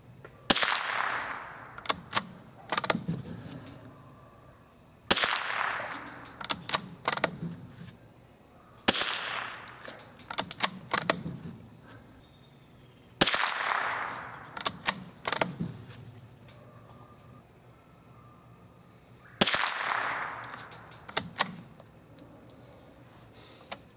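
Five sharp rifle shots from a Winchester 69A fired at a target, spaced about five seconds apart, each crack followed by brief mechanical clicks of working the action, with no talk.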